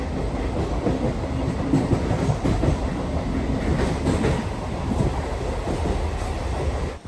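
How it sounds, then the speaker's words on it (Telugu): A Vijayawada to Rajahmundry MEMU Express train runs on its line in foggy weather, its steady loud rumble and rattling wheels filling the whole stretch without letup. "ట్రైన్ అయితే డీలేగానే నడుస్తుంది"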